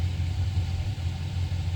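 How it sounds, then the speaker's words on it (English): Garbage truck engine rumbling steadily outside an RV, a loud, continuous low idle-like drone that holds even throughout with no voices. "Oh, that's a garbage truck."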